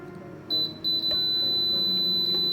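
An air fryer control panel beeps while the temperature and timer are set, giving a couple of short electronic chirps and then a sustained high tone, close and fairly loud.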